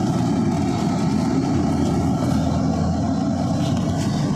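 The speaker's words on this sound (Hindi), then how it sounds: "अभी मैंने फुल एक्सीलेट किया हुआ है।" Toyota Fortuner 4x4 engine held at full acceleration, a loud, steady low-pitched roar that stays constant throughout with no gaps or talk.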